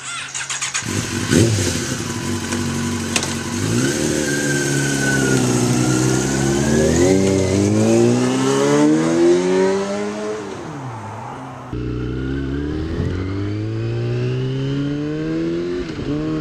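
A motorcycle on a test ride, heard from a rider wearing an Arai Vector 2 helmet. The engine drones loud and steady, its pitch climbing and falling through gear changes, with a brief shift near the end and no talk.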